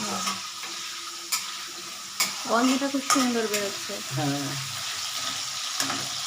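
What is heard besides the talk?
potatoes frying in a pan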